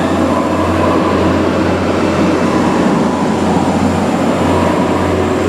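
Steady roar of a train departing Stalybridge station toward Piccadilly, rolling along the tracks with a low rumbling hum, continuous and fairly loud throughout, no voices.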